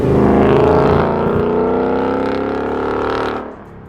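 A 2018-2023 Mustang GT with an MBRP cat-back street exhaust, using resonators instead of mufflers and 3-inch piping with polished quad 4-inch tips, revs loudly and close, holding a steady growl before dropping off near the end.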